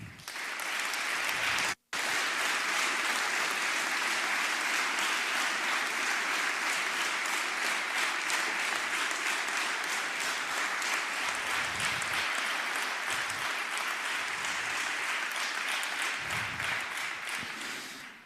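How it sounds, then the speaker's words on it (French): Sustained applause from a council chamber audience greeting elected officials at a Bordeaux mayor's first speech, a dense steady clatter of many hands lasting throughout, broken once by a brief dropout near the start. "Je vous demande d'ailleurs de bien vouloir les applaudir."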